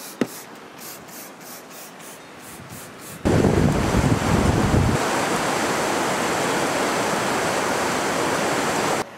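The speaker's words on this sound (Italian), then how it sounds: "Purtroppo c'è molto vento," Strong wind buffets the microphone outdoors on a roof, first as a steady airy rush with faint rhythmic rubbing, then as a loud broadband roar from about three seconds on that stays heavy to the end, with no one talking.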